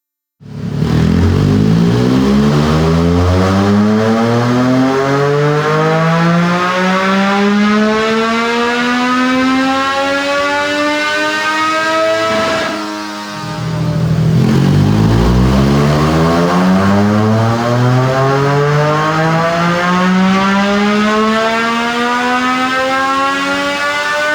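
A Triumph Daytona 660 with velocity stacks and a tune revs hard on a dyno. Two long, loud sweeps climb steadily in pitch, separated by a brief drop in the engine note.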